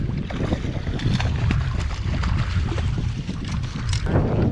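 Steady wind buffets the microphone while fishing from a kayak on the California Delta during a kayak tournament, with constant low rumble and gusty broadband noise throughout, plus faint splashes and handling knocks.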